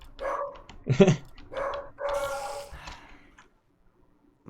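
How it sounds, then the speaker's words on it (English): Pet dog barking indoors, a handful of close, loud barks and yips across about three seconds, then quiet. "So that's my dog that I was talking about."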